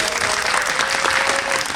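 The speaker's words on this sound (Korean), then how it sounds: "박수 한번 부탁드립니다" A cinema audience at a Korean film screening Q&A for the firefighter movie bursts into applause, a brief, dense, even patter of many hands clapping.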